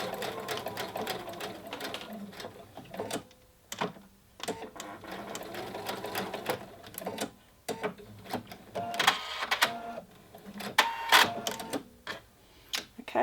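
Stitching a blouse's continuous placket, a sewing machine runs in short, stop-start bursts up close, its motor whirring with clicks and taps between runs.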